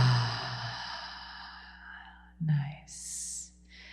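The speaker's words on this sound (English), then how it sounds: "inhale through the nose. Exhale." Slow guided breathing, a soft airy inhale through the nose followed by a gentle sighing exhale, with a faint murmured voice and a brief hiss near the end, quiet and close.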